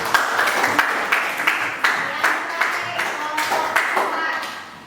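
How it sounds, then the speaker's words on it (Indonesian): Classroom applause for a student group, a steady patter of clapping hands from a room of people, moderately loud with irregular sharp claps across the whole stretch. "kita beri aplaus untuk kelompok 3"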